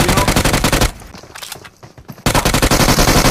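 Rapid automatic gunfire crackles in loud bursts during a BGMI (Battlegrounds Mobile India) match, with a short lull between two dense volleys.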